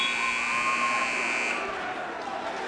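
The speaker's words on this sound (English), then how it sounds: "There's the buzzer." A buzzer sounds to end the second period at a varsity high school wrestling match, a loud sustained electronic tone heard over crowd noise that fades out after about a second and a half.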